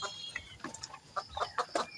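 Chickens cluck softly in and around a farmyard hut, a quick run of short clucks and chirps at low volume with no speech.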